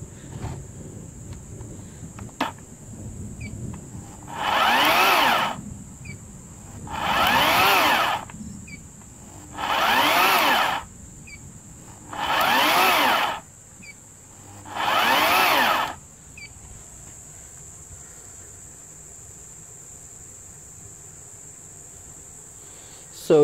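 An electric chainsaw running on a 3500 W power inverter whirs up in five short bursts, each a couple of seconds long and evenly spaced, over a steady high insect-like whine, the inverter not coping.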